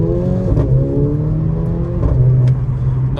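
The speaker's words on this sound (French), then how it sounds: "on peut faire une accélération ici pour vous montrer" A Mercedes-AMG GLA 45 in Sport Plus mode with sport gearbox accelerates from a cold start, its engine roaring loud and close with rising revs and quick gear changes, and no talking.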